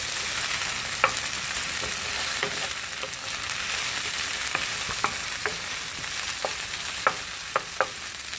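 Okra and tomatoes fry in a pan with a continuous soft sizzle and crackle, broken by scattered sharp pops and the occasional clink of stirring.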